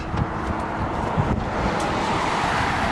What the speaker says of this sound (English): It's always kind of windy up here.